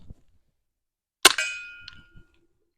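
A single sharp, snappy shot with a brief metallic ring comes from a suppressed Stribog TR22 firing a 20-grain low-powder round. It is close and light, like a BB gun, with a faint tick afterward.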